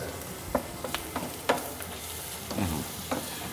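Onions and flour frying in a pan for a Gyumri-style tava dish, a soft steady sizzle broken by a spoon's clicks and scrapes as it is stirred, close and moderately quiet with no talking.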